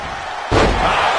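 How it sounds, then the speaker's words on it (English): A wrestler lands hard on the mat from a backdrop suplex at an AEW Double or Nothing match: one heavy slam followed by a sustained roar from the arena crowd. "Backdrop suplex."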